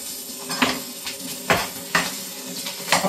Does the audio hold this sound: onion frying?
yes